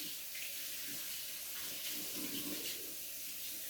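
A kitchen tap runs steadily into a sink for washing up while banana bread is being made, a continuous hissing splash of water at moderate volume with no talking.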